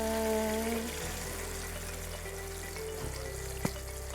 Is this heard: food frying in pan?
yes